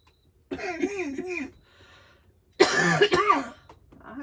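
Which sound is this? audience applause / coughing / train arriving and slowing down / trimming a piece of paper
coughing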